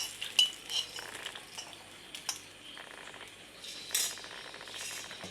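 Beetroot pachadi being stirred with yogurt and a tempering of coconut oil, dried red chillies, mustard seeds and curry leaves: a spoon scrapes and clinks against the bowl in irregular strokes, close and moderately quiet, with no talking.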